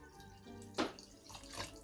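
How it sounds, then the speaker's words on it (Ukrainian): Cold water pours onto frozen cherries and sugar in a pot, a short splashing gush with a bright burst in the middle, close and alone. "Вливаю холодну воду"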